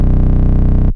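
A heavily distorted 808 bass in FL Studio, with the sub bass EQ'd up and a distortion effect added, holds one thick, buzzing, saturated note for nearly a second before cutting off abruptly.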